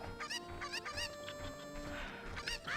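Chicken clucking and squawking from The Legend of Zelda: Ocarina of Time, several short bright calls repeating in quick bursts over a busy, steady game soundscape, moderately loud and close.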